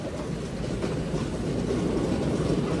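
A passenger train overtakes from an adjacent track while riding aboard another train, a loud, dense rumble and rush of wheels on rails filling the whole moment without a break.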